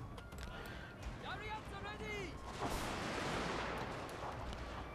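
Infantry gunfire in Total War: Shogun 2 Fall of the Samurai, line infantry volleys crackling across a bridge battle, dense and continuous with distant booms and rumble, game effects layered together.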